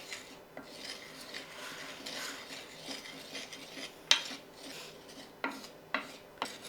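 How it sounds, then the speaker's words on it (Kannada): A spoon stirs semolina (rava) roasting in a clay pot. Quiet, irregular scraping and rubbing strokes are punctuated by a few sharper clinks against the pot, with no talking. "ಸ್ವಲ್ಪ ಕಾದ ನಂತರ ಈ ರವೆನ ಹುರ್ಕೊಳ್ತೀನಿ"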